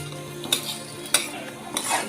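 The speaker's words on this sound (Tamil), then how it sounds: "இந்த சேமியா கொஞ்சம் கோல்டு கலருக்கு ஆகட்டும் அது வரைக்கும் வறுத்துக்கோ" Sago and vermicelli roasting dry in a pan, stirred with a utensil, giving soft scraping rustles with a few sharper clinks of spoon against the pan, no talk.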